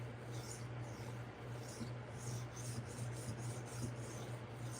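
Knife blade rubbed back and forth on a whetstone, a quiet, steady rhythmic grinding rasp with a low constant hum beneath, close up and without talk.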